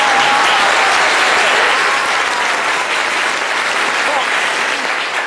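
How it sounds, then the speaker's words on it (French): Loud, sustained applause from an audience in a hall, close and dense throughout, with a voice faintly audible underneath. "Applaudissez Aya bien fort, s'il vous plaît."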